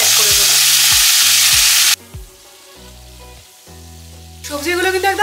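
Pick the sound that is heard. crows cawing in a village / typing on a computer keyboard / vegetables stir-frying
vegetables stir-frying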